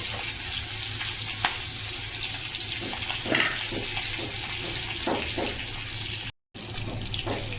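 Garlic tempering fries in hot oil, a loud steady sizzle with scattered crackles and brief stirring scrapes, broken by a short silent gap near the end.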